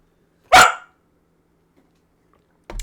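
A dog in the Elden Ring video game lets out a single loud, sharp bark close by, then a second bark begins at the very end after near silence.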